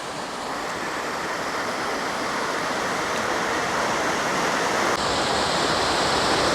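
A creek near Catawba Falls, Old Fort, North Carolina, rushes steadily and loudly, a dense continuous wash of flowing water with no voices.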